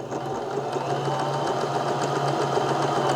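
Steady, continuous mechanical whir and rapid needle rhythm of a Baby Lock Zest home sewing machine stitching stretchy fabric, close and fairly loud throughout with no talking.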